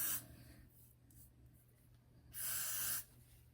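Got To Be hair spray hissing from a can onto a frontal wig in two close, steady bursts, a short one and then a longer one, separated by quiet room tone.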